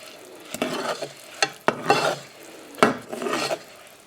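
A spoon stirs a sticky fudge and crisped-rice mixture in a pan, giving several scraping, crackling strokes in an uneven rhythm, close and moderately loud with no talking.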